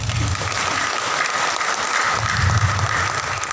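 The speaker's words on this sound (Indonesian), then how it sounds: "Mohon handphonenya dikembalikan dan kita tepuk tangan." Workshop participants at a teachers' training session clap their hands together, a steady, full round of applause from a room of people, continuous and fairly loud.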